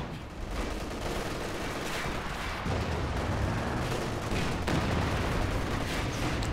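Rocket artillery and gunfire in the video game Company of Heroes 2 make a dense, continuous barrage of booming impacts and rattling shots, with heavier thuds landing partway through.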